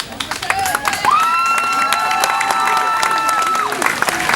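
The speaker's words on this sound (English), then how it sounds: "I guess we're going to clap for her twice." A graduation ceremony audience breaks into applause and cheering, dense clapping mixed with whoops and shouts that hold steady throughout, with a voice briefly audible over the crowd.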